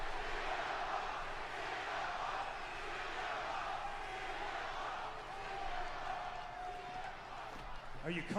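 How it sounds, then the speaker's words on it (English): A wrestling arena crowd at a WWE Raw event roars and cheers steadily from a distance, a dense continuous crowd din heard under commentators talking. "The crowd is hot for this feud."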